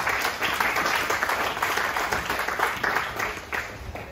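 Audience applause at a spring picnic fashion show, a dense, steady wash of many hands clapping that holds at a constant level throughout with no voices standing out.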